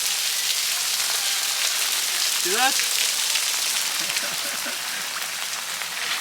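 Heavy tropical rain pours steadily in Bahia, Brazil, a dense, loud wash of hiss that runs throughout, with someone briefly speaking over it.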